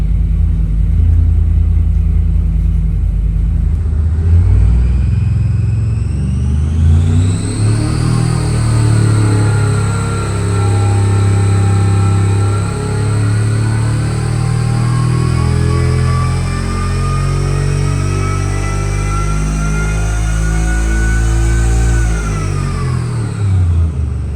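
A supercharged big-block Chevy V8 on an engine dyno idles with a low rumble, then winds up into a long, loud, sustained high-RPM pull before dropping back down, with no talk over it.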